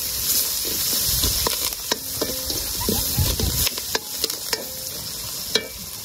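Onions and curry leaves stirred and sautéed in a pan with a steady close sizzle and hiss, broken by scraping utensil strokes and clinks against the metal.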